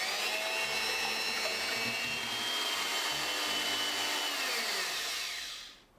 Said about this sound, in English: And now we're gonna beat up the egg whites.